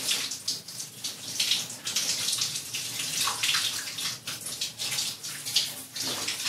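Water runs steadily from a tap for several seconds, a continuous broadband splashing and rushing with small fluctuations, fairly close and loud, with no talking over it.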